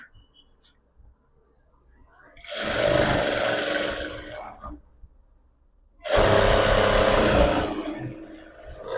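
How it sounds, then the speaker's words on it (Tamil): A power sewing machine runs in two sustained bursts while stitching a cotton pillow cover, a steady loud whirring hum that stops for a quiet pause between runs, with no talking over it. "நீங்கள் பவர் மிஷின் வச்சுருக்கீங்க அப்படின்னா ஸ்பீடு கம்மி பண்ணி அடிங்க"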